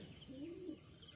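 A single soft pigeon coo, brief and faint, over a quiet background.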